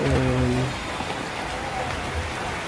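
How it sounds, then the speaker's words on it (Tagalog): Steady rain falls throughout, a dense broadband patter heard indoors in a room, with a short humming tone at the start. "Yan ang ulan."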